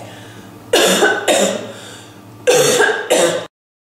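Four harsh coughs with no mask, close to the microphone, in two pairs with a short pause between them, over a low steady background hum.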